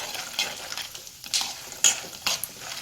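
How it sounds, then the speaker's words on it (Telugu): Peanuts frying in oil in a pan until golden, soft sizzling with intermittent scraping stirs of a spoon against the pan, close and fairly quiet. "ఓన్లీ పల్లీలు వేస్తున్నా చూడండి ఇవైతే కొంచెం గోల్డ్ కలర్ అంతసేపు ఇలా వేయింపుకోవాలి"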